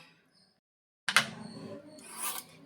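A knife scraping the outer skin off a bottle gourd, with a rough rasping stroke after a short silence, then a second, brighter scrape, close and moderately loud with no talking.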